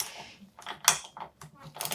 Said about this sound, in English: So first we're gonna grab our 24 millimeter. We are going to loosen that top cap.